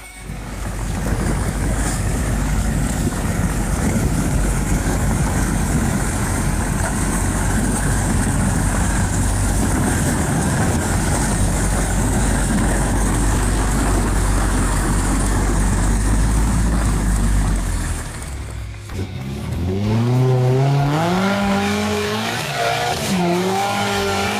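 An off-road truck driving on an icy road, with a loud, steady roar of engine and tyres on ice for most of the stretch, then a whining, shifting engine tone rising and falling near the end.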